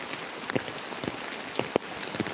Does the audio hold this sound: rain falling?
yes